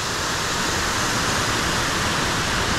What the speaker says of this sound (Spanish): este es la cascada que está en el tope de lo que es el Salto Curret